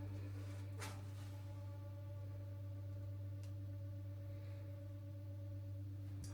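Inside a hotel room, an air conditioning unit runs with a steady low hum and faint constant whir, quiet and unchanging throughout, with a couple of tiny ticks and no voices.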